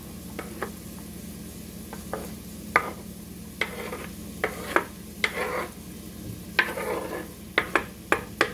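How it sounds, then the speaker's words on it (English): Onion and garlic go into a pot for oyster stew, giving scattered soft clatters and scrapes of stirring over a steady low sizzle, with sharper clinks of utensil against pot at irregular intervals. "And you also can add your onion and garlic as well to the pot"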